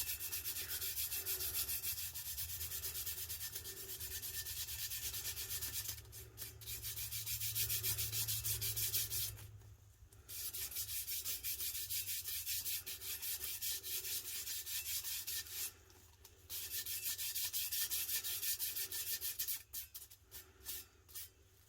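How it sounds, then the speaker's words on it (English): Powder is burnished onto a tumbler by hand, a faint continuous rubbing and brushing that goes on in strokes with short pauses and no talking. "I am just going to burnish it some, like I would with a regular Tack It"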